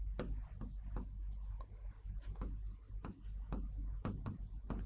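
Chalk scratches across a board in quick strokes and taps during a classroom lecture, a steady run of short scraping marks with low room hum and faint murmuring underneath.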